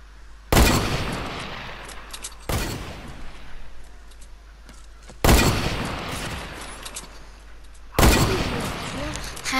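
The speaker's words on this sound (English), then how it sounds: "And I killed him with my hunting rifle" Four loud, sharp hunting rifle gunshots in Fortnite, spaced a couple of seconds apart, each followed by a short echoing tail, with faint game noise in between.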